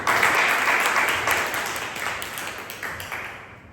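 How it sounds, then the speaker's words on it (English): An audience at a Toastmasters club meeting claps in a steady, dense round of applause that gradually fades over a few seconds. "Please give a round of applause to the R counter."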